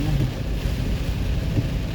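Steady, loud rumbling wind noise with a broadband wash like heavy rain, continuous throughout without pauses, during a strong storm of intensifying wind and rain in Baguio City.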